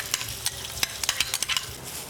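Empanada filling ingredients with chicken, garlic and onion being mixed in a bowl, a close series of quick wet stirring and scraping strokes in an irregular rhythm.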